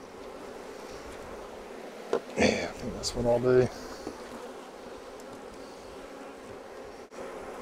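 Honeybees hum steadily in an overwintered nuc hive box during a split, a dense buzz throughout with brief talk in the middle.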